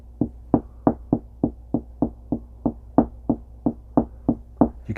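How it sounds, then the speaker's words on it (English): Steady knocking on a hard surface, about fifteen evenly spaced dull thuds over several seconds, moderately loud with a low hum beneath. "can hear knocking in that exact spot, even though you see me not doing anything"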